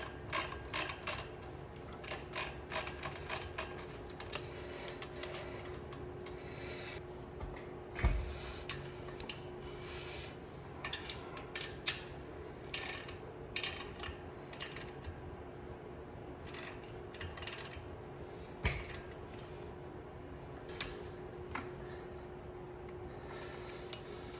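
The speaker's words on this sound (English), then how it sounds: "It's ratcheting wrench. Snug it up. Tighten it up." A ratcheting wrench snugs up bolts on brackets during a 1970 Monte Carlo pro touring build, giving steady bursts of fast, light metallic clicks, close and fairly quiet, over a low constant hum.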